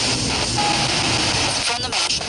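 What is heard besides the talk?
airplane flying overhead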